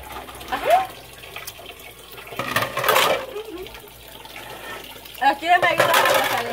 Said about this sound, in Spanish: tapar con un palito el hoyito de la pila porque se nos sale el agua